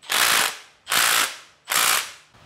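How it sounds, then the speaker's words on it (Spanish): Impact driver hammering as it drives, three loud rapid ratcheting bursts about half a second long, evenly spaced with short gaps, close by with no voices. "el tacataca del atornillador de impacto"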